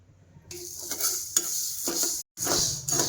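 Green mung beans dry-roasting and being stirred in a pan, with soft sizzling and scraping stirs in short bursts, close by, broken by a brief silence near the end.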